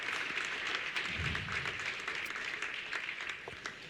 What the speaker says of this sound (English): How about a round of applause for the entire group, please?